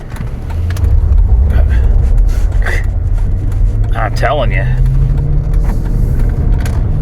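A Dodge Charger drives at around 45 mph with a steady low road and engine rumble throughout, while a person speaks briefly over it.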